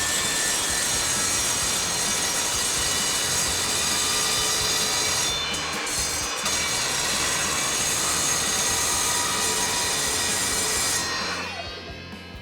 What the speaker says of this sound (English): We're going to cut downwards to get through the vertical walls, and then we slide forwards to get through the horizontal parts.